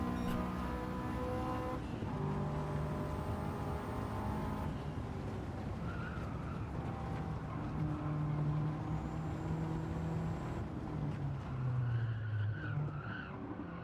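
Racing cars in a video game, among them a Bugatti Veyron and a LaFerrari, roar continuously with engine tones shifting and tires squealing, a steady dense drone throughout.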